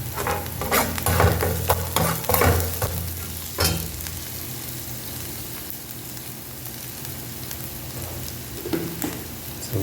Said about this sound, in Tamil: ஸோ அதோட கேரட்டும் போட்டுருங்க, கொஞ்சம் வதங்கட்டும்.